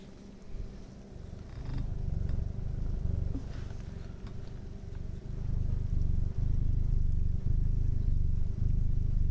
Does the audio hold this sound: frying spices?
no